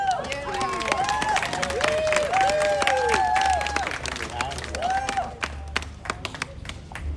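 A crowd applauds at a Chinatown lighting ceremony, a steady wash of clapping with some cheering, fairly close and continuous.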